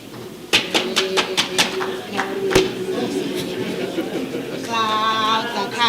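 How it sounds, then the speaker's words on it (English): A lecture hall audience claps in a patterned, rhythmic burst of sharp, evenly spaced claps, then breaks into loud mixed clapping and voices, close and full. "Colleagues, can we clap in our fashionable way?"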